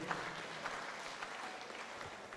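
An audience at a graduate symposium closing ceremony claps steadily as professors walk up, a soft, distant, even patter of many hands with no one speaking.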